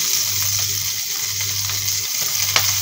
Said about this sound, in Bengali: গ্যাসের ফ্লেম হাই রেখে আমি ভালোভাবে আলুর সঙ্গে মশলাটাকে মিশিয়ে নেব।